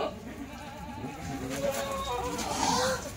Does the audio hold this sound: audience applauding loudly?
no